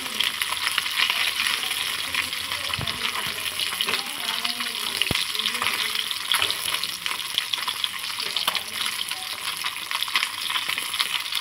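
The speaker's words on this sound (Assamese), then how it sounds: "মই মানে ধুনীয়াকৈ মাছকেইটা ফ্ৰাই কৰি দিছোঁ" Four pieces of fish fry in hot oil in a pan, giving a steady, close, crackling sizzle that runs unbroken throughout, with a few sharp pops and faint kitchen clatter.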